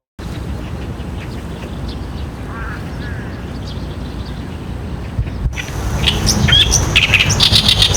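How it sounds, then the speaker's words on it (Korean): Sparrows chirp outdoors over a steady background hiss, with scattered calls that grow busier and louder toward the end. "지금 요 들리는 것이 참새 소리거든요"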